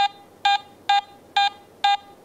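A Garrett AT Gold metal detector gives a proportional medium tone for a silver coin, four clean, evenly spaced electronic beeps over a faint hiss.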